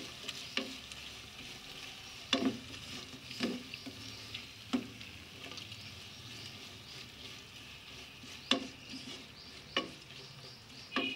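Whole garam masala with red and green chillies frying quietly in a pan, a spoon stirring through them with several sharp scrapes and clicks over a soft, steady sizzle.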